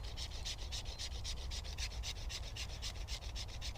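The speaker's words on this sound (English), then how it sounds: "you want to be using the spine, and you're just running that up and down the stick" A knife spine scraped rapidly up and down a green wood stick, a steady rhythmic rasping of about four strokes per second, close and fairly quiet, with no talk.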